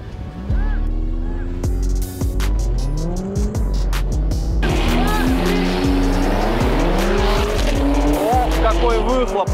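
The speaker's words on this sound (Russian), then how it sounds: "Выхлоп на BMW громкий." A BMW X6M and a Mercedes-AMG C43 launch in a drag race, loud exhaust roaring as engines rev up through rising gear pulls, with tire squeal and a short gap at a shift, close and dominant throughout.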